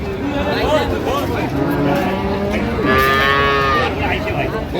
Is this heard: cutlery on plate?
no